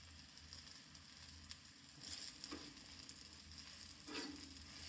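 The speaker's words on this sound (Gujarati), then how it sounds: "આપણે બંને બાજુ કમ્પ્લીટલી તેલમાં ફ્રાય થવા દેવાનું છે" Bajra (millet) flour pudla pancake frying in oil in a pan, giving a steady, close sizzle with a few louder crackling swells and no talk.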